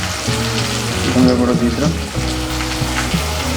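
Chicken curry sautés and sizzles in a pan after coriander powder is added. A dense, steady frying hiss sits under a woman's speech throughout.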